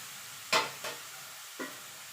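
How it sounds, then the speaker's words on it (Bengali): Carrot pieces dropped into hot ghee over a high flame sizzle in sudden loud bursts: a sharp burst, a shorter second one soon after and a third a moment later, with quiet gaps between them. "ঘিটা গরম হয়ে গেছে আমি এবার গাজরটা দিয়ে দেবো গাজরটা দিয়ে আমি হাই ফ্লেমে গাজরটাকে"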